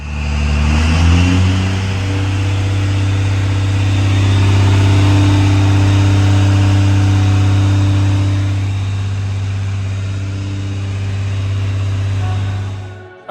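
A truck engine starts up and settles into running, its deep, loud rumble holding steady close by with slight rises and falls in revs throughout.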